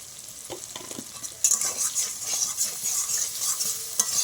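Paneer curry with potato stirred in a pan just after sugar is added, steady sizzling under repeated scraping and stirring strokes that grow busier and louder partway through, without any talk.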